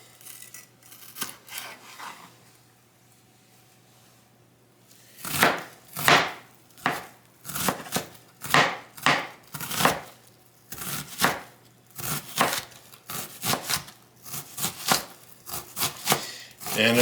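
Vegetables being cut into chunks for an Italian hoagie dip: after a quiet opening, a knife strikes the board in a series of close, sharp chops coming in uneven bursts.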